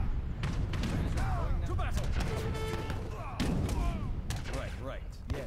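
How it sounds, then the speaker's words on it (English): Culverin artillery in Age of Empires 3 battering an outpost, with repeated booming shots and thuds in a busy battle mix, heard under a voice. "Our culverins seem to be now be taking out an outpost."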